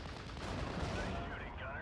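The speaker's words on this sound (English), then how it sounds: "Nice shooting, Gunner." Gunfire in the WWII strategy game Steel Division: Normandy 44, a dense, continuous burst of shots and battle noise lasting under two seconds, with voices faintly mixed in.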